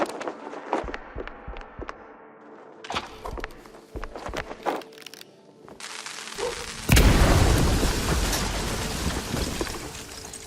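Firecrackers stuffed into a wooden attic in the video game Mouse P.I. For Hire, sharp pops and thuds scattered irregularly at first, then a loud sustained crackling burst of explosions near the end.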